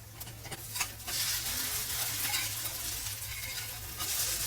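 Mutton adai fries in oil on a dosa pan with a continuous close hiss and crackle that swells slightly after a couple of light scrapes and stays steady, with no voices.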